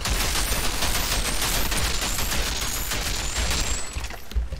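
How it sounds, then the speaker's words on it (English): Rapid, continuous gunfire from a Technomancer in the shooter game Outriders fills the scene, a loud, dense fusillade of overlapping shots with faint ringing tones, tapering slightly near the end. "glad my flight of bullets never ends"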